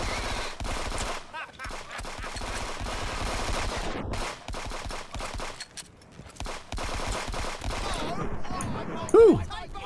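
Rapid gunfire from the video game Friends vs Friends, dense bursts of automatic shots with brief gaps, loud and continuous across the clip.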